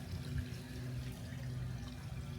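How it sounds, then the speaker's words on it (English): Steady rush of water draining into a storm drain along a quiet residential street, a continuous low gurgling flow heard close by with no voices. "I don't hear anything except for this water draining out of this"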